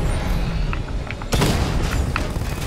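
A deep boom goes off partway through a Batman Arkham Knight fight, a single heavy blast that lands over a steady rumbling background, with a few faint sharp clicks and pings around it.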